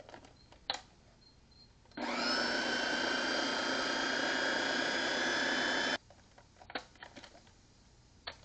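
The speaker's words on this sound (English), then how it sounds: "So your blender full of corn." A blender full of corn grinds for moonshine mash: a loud, steady motor whine starts abruptly, holds evenly for about four seconds, then cuts off, with faint clicks and handling noises before and after.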